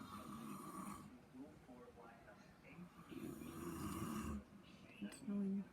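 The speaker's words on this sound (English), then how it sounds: "It's snoring so loud." A man snores loudly in a bedroom at night, rough drawn-out breaths recurring in slow cycles with a television show faintly audible underneath.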